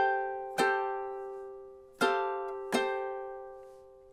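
Three slow, separate ukulele strums, each ringing out and fading before the next, played alone at a relaxed tempo as a measure of a song.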